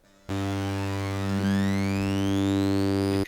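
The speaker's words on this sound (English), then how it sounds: "Frequency shifter, it shifts the frequency." A steady electronic drone through a frequency shifter effect in Ableton Live, harmonics whose upper partials sweep and glide in pitch, sounding metallic and inharmonic, continuous and loud.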